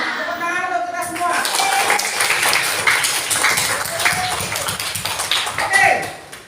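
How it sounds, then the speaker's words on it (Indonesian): A junior high school class claps together at the end of a lesson, dense steady applause filling the room, with children's voices and a teacher speaking over it at the start and end. "Tepuk tangan untuk kita semua."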